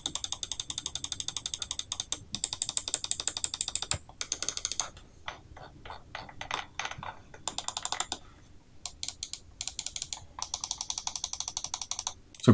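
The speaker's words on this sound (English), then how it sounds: "So this is how the switches sound." Crisp, rapid clicking of computer mouse switches on a QuadraClicks mouse in quick bursts and irregular runs, close and dry, with brief pauses between flurries and no talking.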